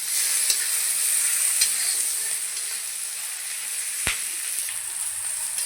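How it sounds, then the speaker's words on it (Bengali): Sliced onion and slit green chilies fry in oil in a pan, a continuous close hiss with occasional sharp clicks of a spoon against the pan. "পেঁয়াজ আর লঙ্কা ভালো করে ভেজে নেব।"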